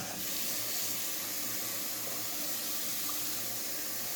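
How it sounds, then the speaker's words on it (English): Cold tap water runs steadily from a kitchen faucet to thaw frozen food, a constant soft hiss and splash that holds even and unbroken the whole time with no voices. "So flip it over and add regular cold water, tap water,"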